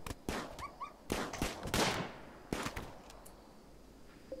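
Gunfire from the colony-building video game RimWorld: a series of sharp, separate shots in quick bursts, with short gaps between them and a few small tonal blips from the game.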